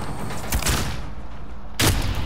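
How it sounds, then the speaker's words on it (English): Bursts of gunfire in a shooter video game, heard as a loud volley early on, then a quieter stretch, then another sharp blast near the end, with no talking. "You don't have to use a machine gun though."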